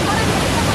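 Lembah Anai waterfall in West Sumatra, beside a roadside stop, gives a loud, dense, unbroken roar of falling water filling the brief moment.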